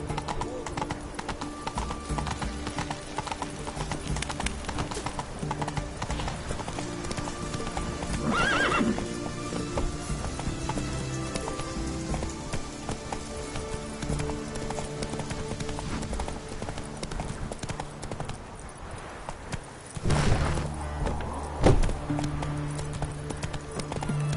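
A horse gallops in The Witcher 3, its hooves clip-clopping in a steady run that continues throughout. There are occasional whinnies, a louder burst near the end, and game music and ambience underneath.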